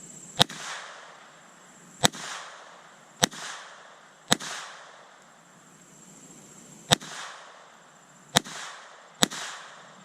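Seven sharp, loud shots from a High Standard M-101 pistol fired in a competition practice group, spaced one to two seconds apart at a slow, deliberate pace, each followed by a short ringing echo.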